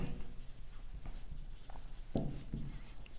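Chalk or pen writes on a board or paper during a calculus lesson, faint scratchy strokes with a couple of sharper taps, close and quiet, no talk.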